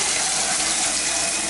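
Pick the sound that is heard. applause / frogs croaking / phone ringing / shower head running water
shower head running water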